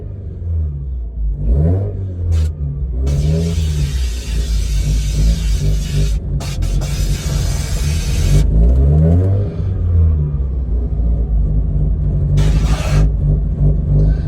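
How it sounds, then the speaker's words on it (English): A 2004 Mazda RX-8 rotary engine with an idle fault running close up, a continuous lumpy drone whose pitch rises and falls as it is revved, loud and alone. "Now let's start the car. Now we must idle the car for 20 minutes."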